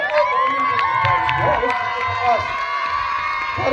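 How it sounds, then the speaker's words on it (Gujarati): A crowd at a school Republic Day function cheers and shouts, with children's voices rising over it in a loud, continuous din that stays steady for a few seconds. "એમના અભિવાદનને આપણે તાળીઓના નાદથી વધાવી લઈશું."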